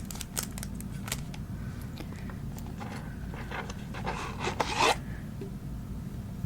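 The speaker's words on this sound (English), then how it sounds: "Let me pull the scissors out and we'll begin." Close scissor snips and soft rasping as hair is cut during a quiet haircut, with scattered crisp clicks and a denser burst of cutting toward the end.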